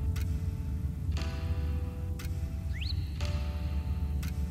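Hazard-light relay of a Honda NSX ticking inside the car, about five sharp, evenly spaced clicks roughly a second apart over a steady low idle rumble.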